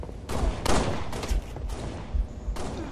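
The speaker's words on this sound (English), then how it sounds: "Tristan, stop shooting me!" Rapid bursts of gunfire from a SWAT match video game, several loud volleys of shots in irregular clusters across a few seconds, dense and close with no talking.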